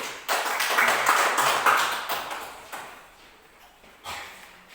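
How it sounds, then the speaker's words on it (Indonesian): A class claps hands together after a group presentation, a dense burst of clapping that swells quickly, holds, then thins out and fades, with a brief extra flurry near the end. "Tepuk tangan dulu"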